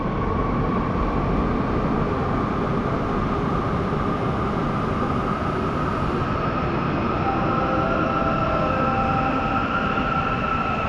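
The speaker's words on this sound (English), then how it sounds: "Here comes our train." A train pulling into a station platform in Palma, Mallorca: a loud, continuous rolling rumble of wheels and carriages with a faint high squeal, close by and unbroken for the whole stretch.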